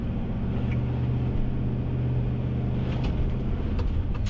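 An $80,000 Chevy Explorer conversion van sits on a deserted road with traction control off, power-braking through a burnout attempt. A deep, steady, loud engine drone holds under light tire or road noise.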